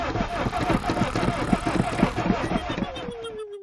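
A cartoon car engine struggles in an animated horror-game parody, sputtering in a rapid, uneven rhythm and then dying away into a falling tone, with a voice talking over it.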